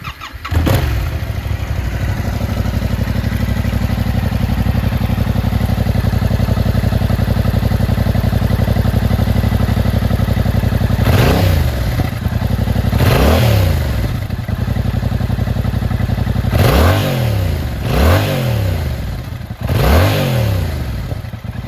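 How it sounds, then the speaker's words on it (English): A 2023 Yamaha Tracer 7 motorcycle on its stock exhaust idles loudly and steadily up close, then is revved in several sharp throttle blips that rise and fall quickly in the second half. "let's fire it up and listen to the stock exhaust"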